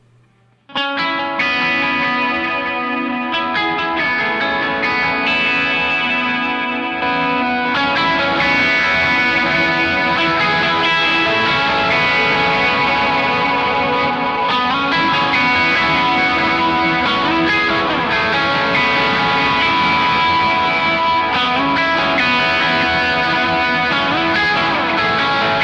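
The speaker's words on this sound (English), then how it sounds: "Let me just go back again for the clean tone so you can hear" Electric guitar played through an overdrive pedal, sustained chords and notes ringing with light grit and chorus-like shimmer, loud and continuous after a quiet start, no talking.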